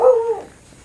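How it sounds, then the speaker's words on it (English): A dog gives a single short bark or yelp outdoors near a house and shed being painted, fairly close and alone, fading quickly into quiet. "I don't know what he's barking"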